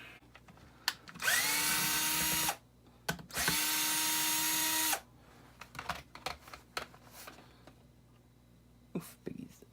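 A power tool whirs in two sustained bursts, rising in pitch as it spins up, while backing bolts out of a 25 hp Evinrude outboard block, followed by clicks and clatter of loosened parts and faint talk.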